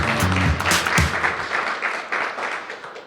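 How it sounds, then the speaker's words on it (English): Audience applause builds into steady clapping, with a few low thumps near the start, continuing at moderate volume. "Please welcome, with a huge round of applause, Debora Ruppert."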